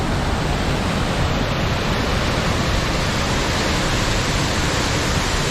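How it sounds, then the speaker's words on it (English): Steady, dense roar of a partly frozen waterfall, broadband and constant throughout, with no voices. "God, that waterfall right there."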